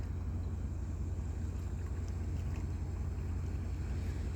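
A ship on the water during a fishing trip, heard as a steady low engine rumble with throbbing pulses beneath wind noise, continuous and fairly close.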